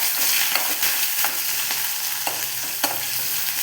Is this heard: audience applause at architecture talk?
no